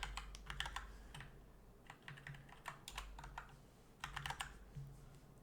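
A computer keyboard clatters with rapid, uneven bursts of typing while Python code is written, the keystrokes close and alone with short pauses between runs.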